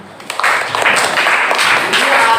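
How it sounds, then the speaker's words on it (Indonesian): A classroom of students applauds a student's correct answer with loud, close, continuous clapping that swells quickly and stays dense. "Tepuk tangan."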